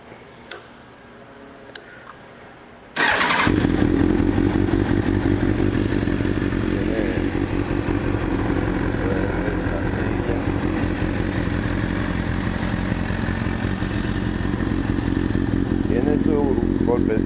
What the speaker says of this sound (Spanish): Esta es una ZX600 y esta moto arranca y anda.